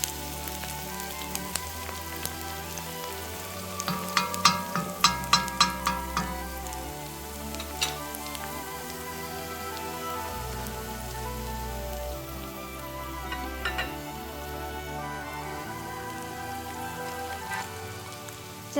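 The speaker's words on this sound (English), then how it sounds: "Once you give your onions a few minutes to get slightly brown, you want to throw in your garlic." Onions and garlic sizzle steadily in a pot for Greek chicken lemon rice soup. The frying is soft and crackly, with a few sharper pops and utensil clicks near the start.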